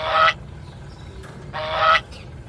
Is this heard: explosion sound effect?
no